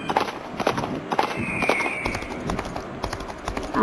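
A horse's hooves clop in a steady, rhythmic beat in a video game as it travels toward a forest, moderately loud over busy background game noise.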